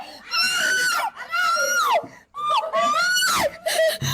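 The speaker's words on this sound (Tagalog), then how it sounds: "Tili ng tili." People in a variety show clip scream repeatedly, with loud, close, high-pitched shrieks in several long bursts separated by short breaks and some vocal noise among them.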